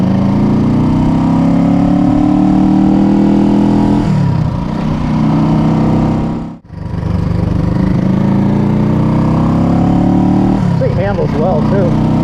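A vintage Honda CB350 motorcycle engine running while being ridden, a loud close steady drone whose pitch rises and falls with throttle changes, dipping sharply once in the middle.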